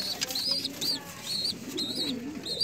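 Pigeons in a loft with a young bird, soft repeated cooing and high chirping calls, faint and close, with quiet talking in the background.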